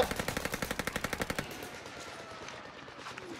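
Video game gunfire: a rapid automatic burst of about fifteen evenly spaced shots rings out close and sharp, then stops, leaving a quieter tail with faint distant noise.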